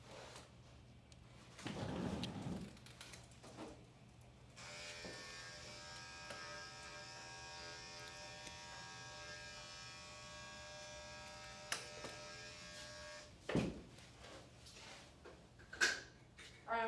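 Electric hair clippers fitted with a 2 guard trim a dog's coat, a steady faint mechanical buzz running through most of the clip with occasional soft knocks and handling sounds.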